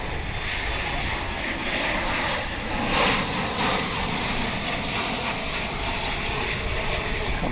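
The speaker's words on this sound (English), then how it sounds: "Just in time for us to welcome a flight from Vancouver, Canada, American flight" Boeing 737-800 airliner of American Airlines, arriving from Vancouver, landing at Dallas/Fort Worth International Airport: a steady, loud, broadband jet engine roar holding throughout with a slight swell midway, no talk.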